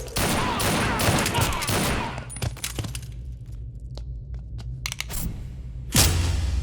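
Gunfire from a Hindi dubbed South Indian action movie scene: a dense burst of rapid shots fills the first two seconds, followed by scattered single cracks and a final loud blast, over a low soundtrack rumble.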